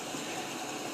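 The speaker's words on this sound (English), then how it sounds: "Boy, the train, something's really rolling now." A train rolls past nearby as a steady, loud rumbling roar that holds without a break for the whole second, with no voices over it.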